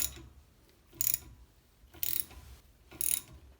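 Clamp being tightened on a Porsche 914 front wheel hub, heard as three evenly spaced bursts of metallic ratcheting, each about half a second long, close and moderately loud, with no talk.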